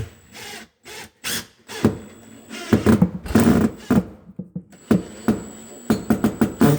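A power drill drives screws while a new stove is installed, short bursts of whirring motor broken by pauses, fairly close and loud, in an irregular stop-start pattern.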